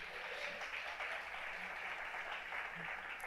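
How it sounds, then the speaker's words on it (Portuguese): Congregation applauding during a church service, a steady, fairly faint wash of clapping that continues throughout. "Aplauda Jesus."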